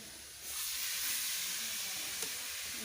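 Grated coconut frying in a home kitchen pan gives a steady, broad sizzling hiss that swells after a brief quieter start and holds evenly, with no voices.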